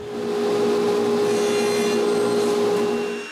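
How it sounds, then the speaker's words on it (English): A saw makes a 45-degree cut through a wooden rail against a stop, a single continuous cut with a steady tonal hum and rasp that rises and fades over a few seconds. "Then I can make the 45-degree cut on the rails"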